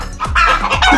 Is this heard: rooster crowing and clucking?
yes